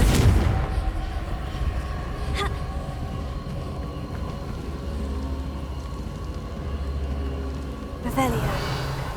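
A Confringo blasting spell explodes in Hogwarts Legacy, booming loudly at the start, with further bursts and rumbling impacts around a continuous low rumble and a spoken voice.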